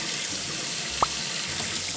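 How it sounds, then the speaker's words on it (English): Tap water runs steadily into a vase being filled for a flower arrangement at home, a continuous close splashing stream with a brief brighter gush about halfway through. "Let's fill this with water and get these flowers in here."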